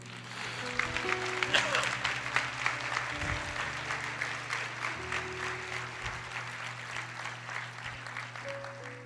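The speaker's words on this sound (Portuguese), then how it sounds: "Você pode aplaudir o Senhor?" Church congregation applauding in a sustained wave of clapping, with music or organ tones held underneath and some crowd voices mixed in, steady throughout.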